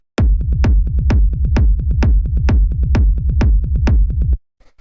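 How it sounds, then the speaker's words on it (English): A booming electronic rumble kick pounds in a steady rhythm, each hit trailed by rolling bass pulses, loud and alone until it stops abruptly. "After that we have the kick and bass"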